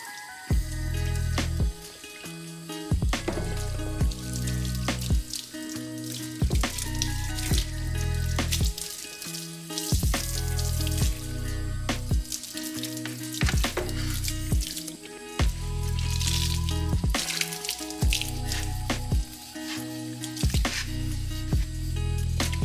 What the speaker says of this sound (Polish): I teraz płukanie czystą wodą.